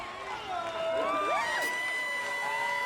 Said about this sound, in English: He's got his parents and brothers cheering him on.